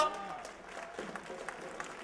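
An audience at a foundation meeting claps to welcome Sivamma to the stage, a faint, steady patter of applause from a distance with some voices mixed in.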